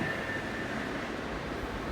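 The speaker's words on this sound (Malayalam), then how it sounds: "ഞങ്ങൾ വെളുപ്പിനെ റെയിൽവേ സ്റ്റേഷനിൽ ഇരിക്കുവാണ്, ഞാനും ആരണം." Steady low rumble of a train at a railway station before dawn, a continuous rolling drone with a faint high whine running through it.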